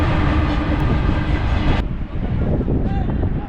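A train rolls past a village football ground in Qobustan, Azerbaijan, during a match. It makes a steady, loud, broad rumble that shifts partway through, with wind buffeting the microphone and no clear talk.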